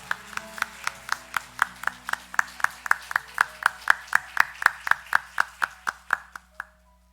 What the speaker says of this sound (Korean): 우리 나오실 때 따뜻한 환영의 박수를 나누겠습니다